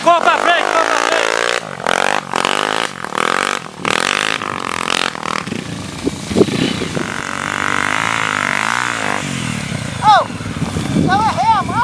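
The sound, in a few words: another trail motorcycle passing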